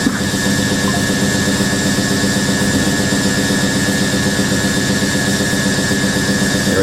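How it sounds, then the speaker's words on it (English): A Hoover A3060 Electronic 1100 washing machine spins with worn motor bearings, giving a loud, steady mechanical roar and whine that holds unbroken throughout, with no talk. "that kind of sound, that's the motor bearings."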